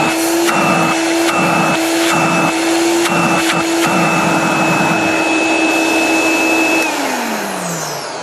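A Hoover Dial-A-Matic Model 1120 vacuum cleaner runs loudly and close with a steady high whine, interrupted by a few rhythmic bumps, then winds down as the motor shuts off near the end.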